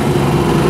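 Car engine idling too fast, a steady droning hum with a continuous low rumble, close and unbroken throughout, no voices.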